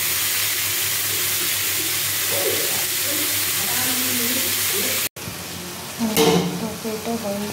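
Red spinach with lentil dumplings frying in a pan, a steady low sizzle and hiss that cuts out briefly and returns with a louder burst of sputtering as the greens are stirred.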